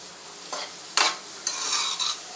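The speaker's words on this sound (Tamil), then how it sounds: "எண்ணெய் ஊற்றிட்டு கேரட் பீன்ஸ் இது வந்து நல்லா வதக்கிக்கணும்." Carrots and beans sauté in hot oil for chicken fried rice, a steady sizzle broken by several brisk spatula stirs that scrape and toss the vegetables in the pan.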